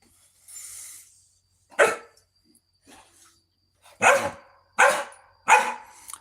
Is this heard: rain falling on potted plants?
no